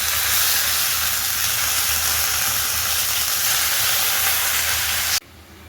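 Spinach hits a hot pan of fried vegetables for a Bengali palak shak ghonto with live prawns, giving a loud, steady steaming hiss and sizzle that cuts off abruptly near the end, no talk.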